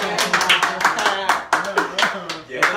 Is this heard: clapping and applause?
yes